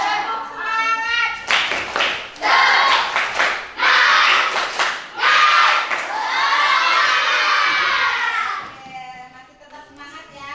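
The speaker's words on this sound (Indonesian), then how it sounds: "Beri tepuk tangan untuk kita semua." Schoolchildren in a classroom clap in bursts and then cheer loudly together, rhythmic group clapping giving way to a sustained shout before a teacher's voice returns.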